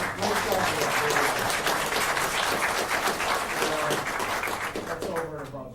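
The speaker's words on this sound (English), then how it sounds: "let's once again give a round of applause for these three who did such a great job." A round of applause at an East Lyme, Connecticut Board of Selectmen special meeting, loud sustained clapping from the gathered crowd that tapers off toward the end.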